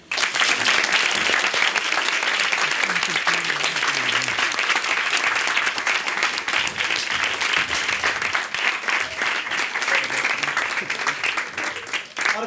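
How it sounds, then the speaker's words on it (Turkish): Studio audience at a Turkish comedy show breaking into sustained, loud, dense applause for over twelve seconds, with faint voices mixed underneath. "Alkış."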